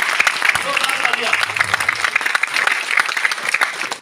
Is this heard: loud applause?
yes